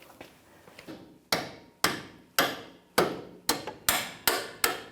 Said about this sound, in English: I'll get that with a hammer.